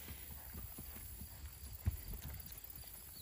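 Hooves of a gaited Tennessee Walker horse clip-clopping in a steady, quick rhythm, fairly faint and close under low background noise.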